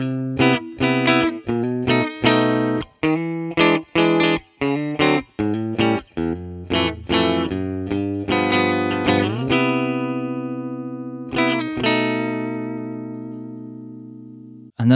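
A Squier Bullet Competition Mustang HH electric guitar on its bridge pickup plays bright, twangy notes and chords in a quick rhythm, then lets a final chord ring out and fade.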